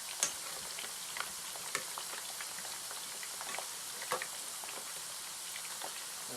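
Sliced potato chips frying in hot oil in a pot, a steady close bubbling sizzle with occasional small pops and spatula taps, no talking.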